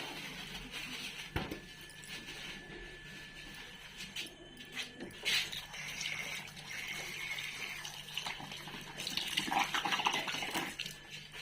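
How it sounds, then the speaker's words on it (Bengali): Fish are rinsed under a running kitchen tap, with water splashing steadily alongside clinks of pots and utensils in a domestic kitchen. "মাছগুলো ধুয়ে ফেলি এবার ভালো করে"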